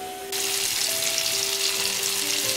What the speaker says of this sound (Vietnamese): mình chiên cái đồ hũ này mọi người, vì cái đồ hũ này nó rất là dễ nát